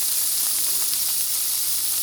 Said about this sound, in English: With that sizzle, nice fine cut on the hot dogs.